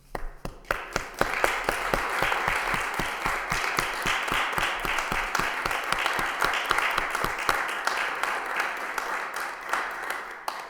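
Loud, sustained applause fills a city council meeting chamber, with many hands clapping in a dense, steady roar of sharp claps that tapers slightly toward the end.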